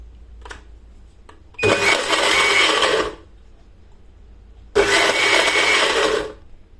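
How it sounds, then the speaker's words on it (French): An immersion blender mixing piña colada runs in two loud bursts of about a second and a half each, separated by a short pause, with a faint clink beforehand. "avec un mixeur plongeant pour la soupe, vous pouvez très bien mixer dedans"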